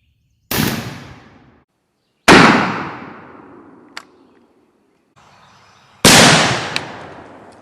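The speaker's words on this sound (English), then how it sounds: "let's shoot our turkey target down here at 30 yards and see what happens" A 12-gauge Winchester 1300 shotgun with an extra-full turkey choke fires Remington Nitro 3-inch turkey loads outdoors, three loud, sharp blasts spaced a couple of seconds apart, each trailing off in a long echoing decay.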